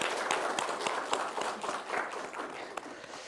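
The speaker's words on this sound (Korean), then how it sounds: "사랑과 환영의 박수 한번 치겠습니다" A church congregation at a Korean worship service gives a warm round of applause, dense and sustained clapping from many hands filling the room and easing slightly toward the end.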